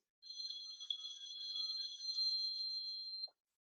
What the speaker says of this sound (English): My phone is ringing for some reason.